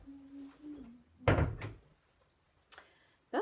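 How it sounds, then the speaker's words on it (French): An indoor door is pushed shut with a firm thud and a brief rattle, followed by a couple of fainter knocks and clicks against a quiet room. "je vais fermer la porte parce qu'on a des coins d'air"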